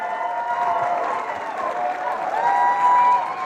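A crowd at a Democratic presidential forum in Nevada breaks into sustained applause and cheering, a dense, even roar of clapping with voices rising slightly toward the end.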